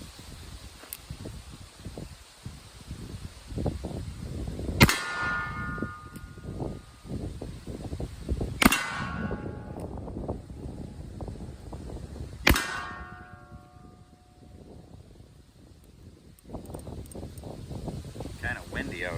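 A Pietta black powder revolver fires its last three shots outdoors on a windy day, each a loud sharp crack with a ringing tail, spaced about four seconds apart, with handling noise and wind between them.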